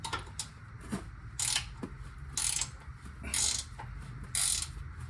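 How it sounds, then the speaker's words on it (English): Hand wrench ratcheting while loosening a tight upper or lower control arm bolt on a Dodge Ram, heard as several short bursts of metallic clicking separated by brief pauses, close and moderately quiet. "I can use a wrench because that one's hard to get to"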